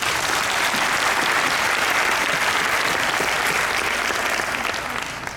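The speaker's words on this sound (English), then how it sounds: "Could you all give the entire committee here and all the board members and committee members a round of applause real quick?" A conference audience gives loud, sustained applause for committee and board members, a thick wall of clapping that holds steady and tapers slightly at the end.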